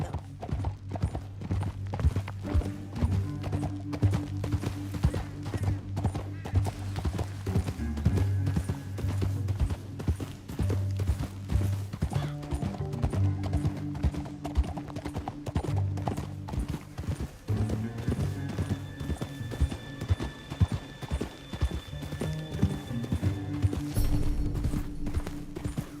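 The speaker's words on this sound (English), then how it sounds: "Up here, get off your horse." Horses gallop with steady clip-clop hoofbeats in Red Dead Redemption 2, running continuously under a low droning musical score, with no talking.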